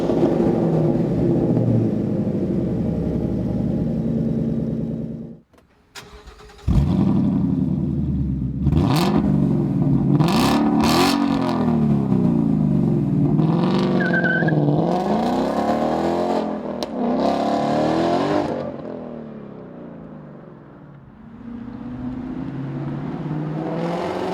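A 2015-2017 Mustang GT V8 through a Ford Performance Borla cat-back quad-tip exhaust idles with a deep, loud rumble, then cuts out briefly before firing back with sharp revs and throaty surges. It settles into a lower burble near the end.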